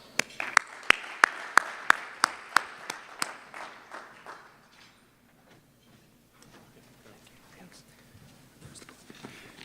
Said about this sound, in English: So let's give Chuck a round of applause